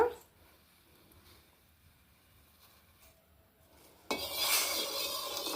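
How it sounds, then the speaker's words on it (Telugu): Beetroot juice being stirred in a small pot on a stove: faint scraping and clinking of a spoon against the pot, quiet and close, before a louder, hissing rush of noise takes over near the end. "ఒక చిన్న గిన్నె పెట్టుకొని మనం ఈ తీసుకున్న జ్యూస్ అంతా పోసేసుకొని దగ్గరకు అయ్యే వరకు తిప్పుకుందామండి"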